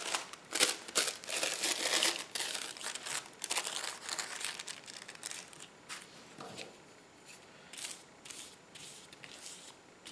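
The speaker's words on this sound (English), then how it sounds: "I think I'm gonna start with the gold tissue paper." Gold tissue paper crinkles and rustles up close in a run of sharp, irregular crackling bursts as it is handled for a craft project, loud at first and then gradually lighter.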